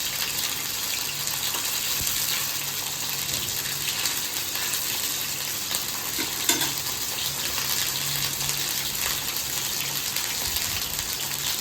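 Pabda fish lightly frying in oil gives a dense, even hiss that runs steadily throughout, with one brief clink partway through and no one speaking.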